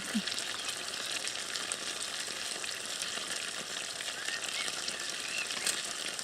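Gravy made from instant granules coming to the boil in a pan by a riverbank, giving a steady close bubbling, sizzling hiss that runs unbroken with no voices.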